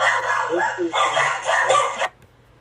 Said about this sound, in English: That's a dog? probably his dogs.